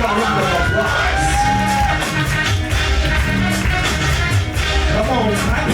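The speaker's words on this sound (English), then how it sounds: "Give a round of applause" Loud, sustained cheering from a crowd at a vogue ball, dense shouting and whoops filling the space continuously, with scattered voices calling out above the roar.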